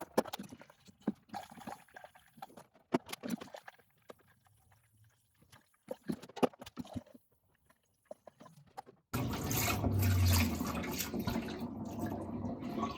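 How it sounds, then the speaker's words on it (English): Water rushes steadily as cleaning solution is rinsed out of a beer keg, a loud continuous gush starting partway through after a stretch of quieter clinks and handling knocks. "So I'm just rinsing out the cleaning solution from this keg"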